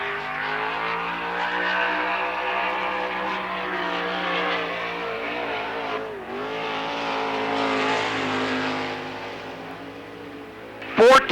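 Race car number 10 lapping Lernerville Speedway at a 1994 memorial event, a sustained engine drone with shifting pitch as it circles, steady and moderately loud throughout, ending with a brief sharp burst.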